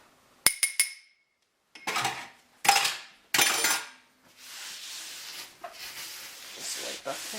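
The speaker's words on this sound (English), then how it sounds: "Just push it through the sieve with the back of your spoon." A metal spoon scraping and pushing flour through a metal sieve in a home kitchen, giving a few sharp clinks followed by bursts of gritty rubbing and scraping, close and fairly quiet.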